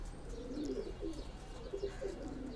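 Pigeons coo in soft, repeated throaty rolls close by, near a newly gifted pair of pigeon chicks, with faint chirps scattered among the low murmuring calls and no speech.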